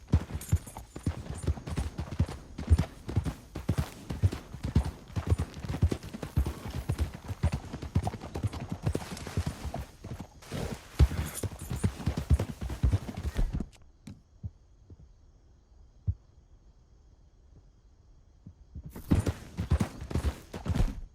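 Horse hooves clip-clop steadily in a rapid rhythm through Red Dead Redemption 2, loud and close for about fourteen seconds, then drop to near silence before the hoofbeats resume at the end.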